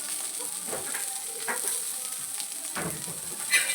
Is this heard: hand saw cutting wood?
no